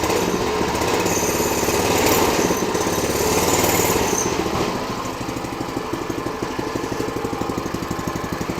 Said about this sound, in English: I never thought I'd see that engine ever run.